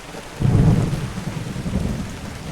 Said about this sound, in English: Every day I remember the rain sound effect.